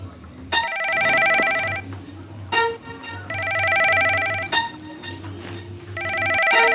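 A telephone rings in repeated electronic bursts, each trill lasting about a second with short pauses between, loud and close over a low steady hum.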